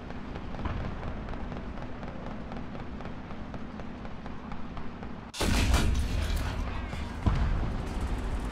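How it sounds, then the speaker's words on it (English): Bombs exploding in a World War II tank battle game set in Normandy: a sudden loud blast breaks in about two-thirds through, followed by a sustained heavy rumble over constant engine noise, with players talking alongside. "here come the bombs"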